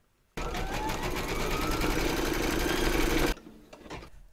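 Sewing machine running a continuous satin stitch in black thread around the body of a large vintage sewing machine design, a steady loud whirring hum for about three seconds, then stopping abruptly.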